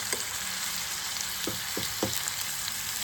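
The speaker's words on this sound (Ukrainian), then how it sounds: "Рибку нашу. Перевертаємо, цибульку так перемішуємо." Fish and onion fry in a pan with a steady bright sizzle, punctuated by a few soft thumps as the pieces are turned and stirred.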